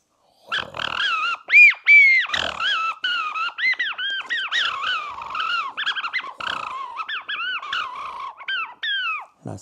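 A man whistles a continuous, warbling imitation of a blackbird's song. Close and fairly loud, it runs for about nine seconds in fluid, rising and falling phrases with quick slurred notes.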